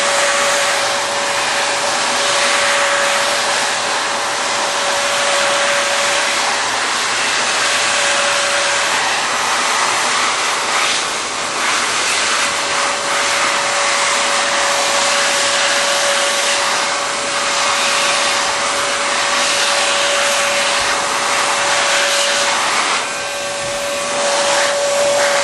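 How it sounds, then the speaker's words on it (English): A heat gun blows steadily as it shrinks tubing, a continuous loud whooshing hum with a thin high whine that holds almost unchanged for the whole stretch, with only slight dips near the end. "I'm going to continue to apply heat and continue to shrink the remainder of the"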